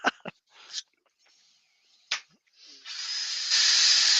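A power sander works on wood in a woodworking shop: a few sharp knocks and a brief whir, then it spins up into a loud, steady broadband whirr that grows louder for the last second, close to the microphone.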